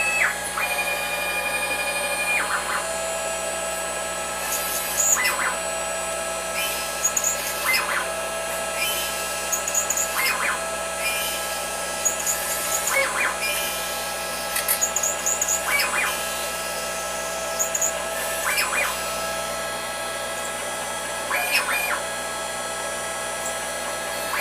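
A 6040 CNC machine faces stock with a 1/4 inch end mill while cutting custom AC control knobs, giving a steady high-pitched whine with repeated short rising tones and clicks at regular intervals.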